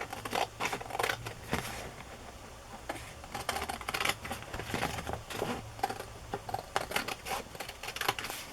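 Scissors snip along the white edge of coffee-dyed paper while crafting journaling cards, giving a quick irregular run of close, crisp cuts with short pauses and no talking.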